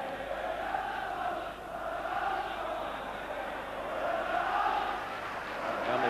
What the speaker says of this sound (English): And a big crowd here this afternoon.